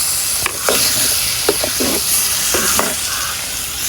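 Squid sautés in a hot pan with a loud, steady sizzle, broken by several scraping stirs of a spoon through the pieces.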